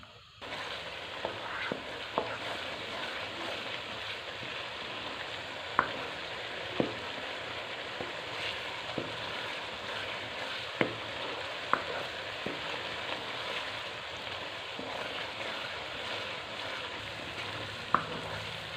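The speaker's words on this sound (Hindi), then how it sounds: "अच्छी तरह मसाला भून लेंगे।" Masala with crushed red chilli and salt roasting in a pan for mixed vegetables, a steady soft sizzle with occasional stirring clinks and scrapes, alone without talk.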